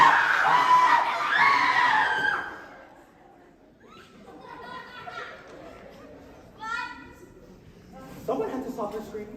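A woman's loud, high-pitched scream fills the first couple of seconds on stage during a high school spring production of Clue, followed by quieter murmuring and scattered children's voices and light laughter from the audience.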